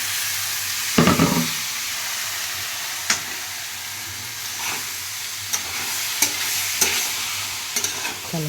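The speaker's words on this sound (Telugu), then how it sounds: "చికెన్ వేసేసాను. చక్కగా కలుపుకొని మూత పెట్టేసుకోవాలి." Garlic chicken stirred and fried in a pan: a continuous soft sizzle and hiss, broken by sharp utensil scrapes and clacks against the pan at irregular intervals.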